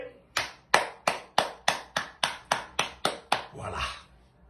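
Ten sharp, evenly spaced claps ring out one by one in a slow steady rhythm, then fade into a softer blur of a few more hands.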